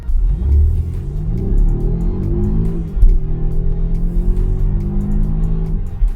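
A 2020 Volvo XC90 T8 Twin Engine, a 2-liter gasoline engine paired with an electric motor, accelerates hard in regular mode; the loud engine note climbs in pitch, drops at a gear shift, then rises again, close and alone.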